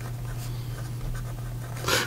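A Cross Classic Century fountain pen with a medium steel nib scratches faintly across paper in a few short strokes, ending in a louder brief scrape, close up over a low constant hum.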